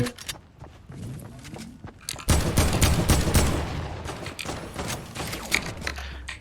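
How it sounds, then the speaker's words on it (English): Gunfire in the Fortnite video game, with a quiet, sparse first two seconds, then a sudden loud burst of rapid, dense shots and impacts that continues close by through the rest of the clip. "Getting shot at, getting shot at."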